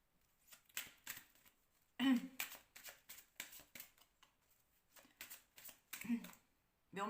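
Tarot cards are drawn and shuffled close up in quick, soft riffling bursts and light slaps, with a quiet pause between groups.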